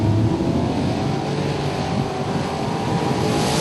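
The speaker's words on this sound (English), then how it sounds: "Couple rips of the throttle and Joe Schmall's win light comes on." A Super Pro drag race car revving at the starting line, a steady, loud, raspy engine roar that holds throughout with little variation, heard from a short distance.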